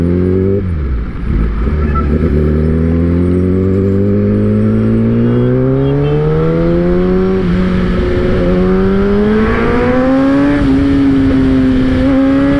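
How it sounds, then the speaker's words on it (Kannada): Kawasaki ZX-10R sportbike engine revving hard in cold winter conditions, a loud continuous roar rising and falling through repeated throttle sweeps with no talk. "ಕಿರ್ಚಾಡ್ತಾ ಇದೆ ಗಾಡಿ"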